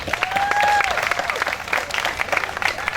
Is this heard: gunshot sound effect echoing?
no